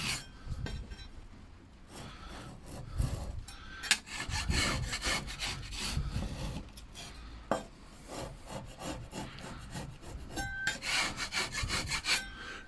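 Steady rubbing and scraping of sandpaper on wooden door beading, sanded by hand close up, repeated in uneven strokes with a few brief clinks along the way.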